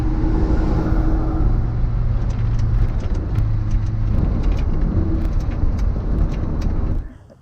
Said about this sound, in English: The bus is literally turning on and off 6 to 7 times a minute.